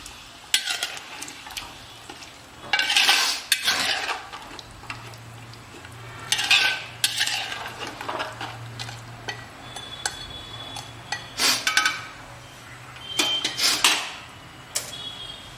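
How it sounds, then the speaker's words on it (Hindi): Mutton curry being stirred in a pot after about a glass of water is added, with intermittent scraping and clinking bursts of the spoon against the metal, close by, over a soft steady hum. "इससे बढ़िया मिक्स कर लेंगे"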